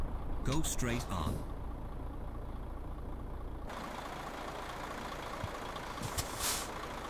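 Air brake hiss and compressor sound from a truck in a trucking video game: a sharp hiss burst at the start, then a steady engine drone with a brief second hiss later, while people talk over it.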